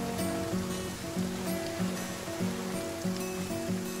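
Rain in the survival video game The Flame in the Flood, a steady watery hiss and patter under a repeating looped tonal hum, constant and fairly loud throughout.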